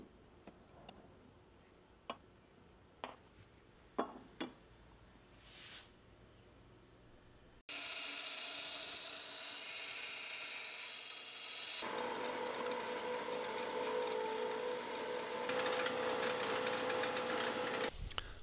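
Grinding the bevels of a twist Damascus EDC knife blade: a loud, steady, continuous grinding roar that starts abruptly after sparse ticks and taps and runs without a break to the end, with the tone shifting slightly partway through.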